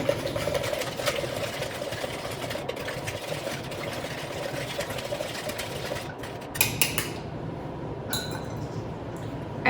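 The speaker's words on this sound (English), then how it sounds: "let's whisk this together" Vanilla and wet ingredients whisked in a glass bowl for baked oatmeal cups, a rapid, steady clinking and rattling of the whisk against the glass, close and fairly loud, breaking into a few separate taps near the end.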